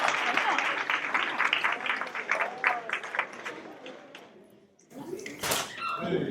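An audience at a university faculty recital of The Addams Family claps in a dense burst of applause that fades after a few seconds, followed by a thud and stage noise.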